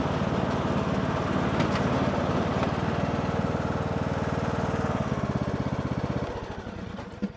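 A John Deere D105 lawn tractor engine runs steadily and close, a loud, even mechanical drone that shifts and eases slightly near the end, with no talk over it.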